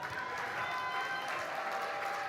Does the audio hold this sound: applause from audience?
yes